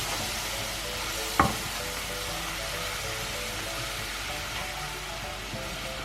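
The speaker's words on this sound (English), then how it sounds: "So the cream goes in now." A pan sizzles steadily and loudly as cream goes in for a steak sauce, one sharp knock early on and an even frying hiss throughout, with no talking.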